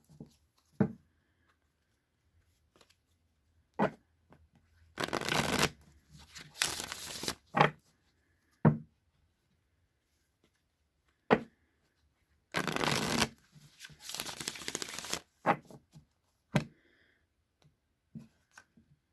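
Tarot cards being shuffled in quiet bursts, with two longer riffling passes of papery flutter separated by silence and scattered single taps and clicks of cards being handled close by.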